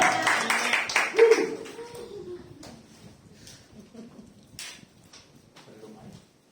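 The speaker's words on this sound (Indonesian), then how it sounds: "Mari berikan sambutan tepuk tangan yang meriah untuk Ibu Doris, Twin Sister" A church congregation at an Adonai Ministries service applauds Ibu Doris, with dense clapping that peaks early, then thins into scattered claps and fades.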